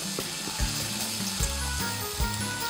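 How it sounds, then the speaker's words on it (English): Food sizzles steadily in a pan on a camping stove outdoors, an even frying hiss with low rhythmic bubbling and a few soft scrapes, close and alone with no voices. "Hear that sizzle away."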